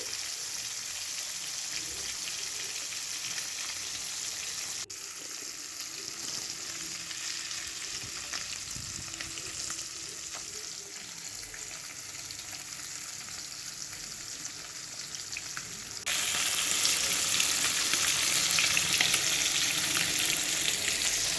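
Fish frying in hot oil with black cumin: a steady, dense sizzle and crackle that holds for a long stretch and swells noticeably louder near the end.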